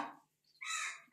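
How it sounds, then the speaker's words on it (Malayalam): A crow caws twice outdoors, a short call followed by a longer, louder and harsher caw after a brief pause. "കാക്ക വന്നിരുന്ന് കരയണം"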